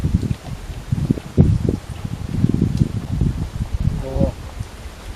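Gusty wind rustles through leaves outdoors in Aceh, a soft, uneven rushing that swells and fades, with a voice briefly heard.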